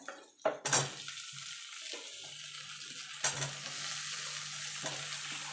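Beans, eggplant, potato and pumpkin frying in a pan, with sharp scrapes and clanks of a utensil stirring against metal over a continuous sizzle, the loudest knocks near the start and another strong one partway through.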